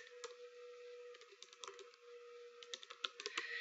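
Keystrokes on a computer keyboard while entering text online, a steady patter of light clicks with small bursts, close and fairly quiet over a faint constant hum.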